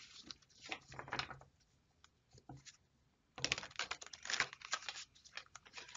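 Playing cards riffled and shuffled by hand in a few bursts of rapid crisp flutters, with a quiet pause in between and the later bursts louder and busier.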